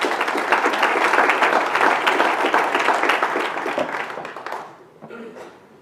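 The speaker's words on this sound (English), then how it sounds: "So again, another round of applause." A loud audience applauds during a city's State of the City address in Moreno Valley. Dense, sustained clapping fills the room for about four seconds, then fades to scattered claps.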